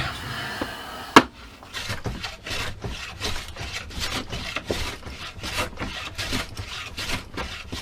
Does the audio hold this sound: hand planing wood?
yes